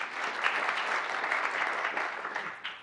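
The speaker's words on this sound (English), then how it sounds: "Another round of applause for this group real fast to get us going." A brief round of applause from an audience at a civic forum, a dense, even wash of clapping that fades out near the end.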